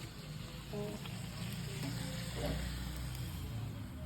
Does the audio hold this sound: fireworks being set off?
no